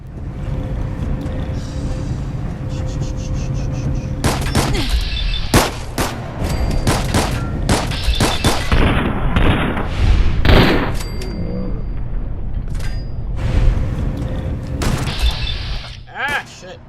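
Gunfire in Fallout 4 comes as loud, sharp shots and clustered volleys scattered across the stretch, some with a metallic, shattering edge, over a low background rumble.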